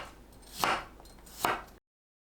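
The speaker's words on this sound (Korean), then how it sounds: "마늘은 편으로 썰어주세요." Two separate knife strokes slice garlic on a cutting board, each a short crisp chop spaced under a second apart, close and clear, followed by silence.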